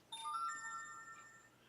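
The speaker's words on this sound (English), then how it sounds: "the stupid Kindle Amazon Fire keeps sending me notifications" An Amazon Kindle Fire tablet chimes a notification: a bright cluster of ringing electronic tones that starts suddenly and slowly fades out over a faint background hiss.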